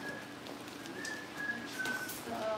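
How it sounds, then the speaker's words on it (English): A person whistles short, thin tones, spaced out across a few seconds, near a corner where Cavalier puppies play, over a quiet, low room background. "Please stop whistling."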